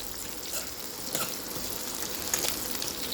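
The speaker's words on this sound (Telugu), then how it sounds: "ఆనియన్స్ అండ్ మిర్చి రెండు వేసుకోవాలి." Onions and green chillies sizzle and crackle in a frying pan for a home-cooked chicken curry, a steady, close frying hiss with a few louder pops.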